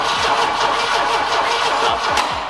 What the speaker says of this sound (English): Okay, can you crank it?